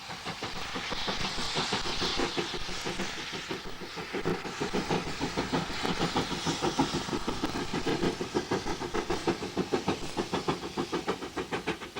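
A steam locomotive labors uphill, its heavy rhythmic chuffing quickening and growing sharper toward the end over a steady hiss, with no voices.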